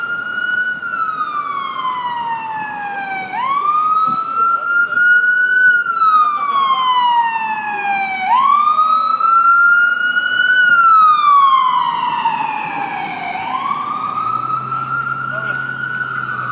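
Wailing ambulance siren rising and falling in long sweeping cycles, loud and close, with traffic rumble beneath and a low horn-like tone near the end; a voice talks faintly.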